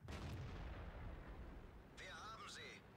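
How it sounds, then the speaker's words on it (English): A tank cannon shot in World of Tanks penetrates the front armour of a Panzer IV: one heavy, loud boom rolls out into a long low rumble, then a high whistling, warbling tone sounds near the end. "That was a penetration to the front of the Panzer IV."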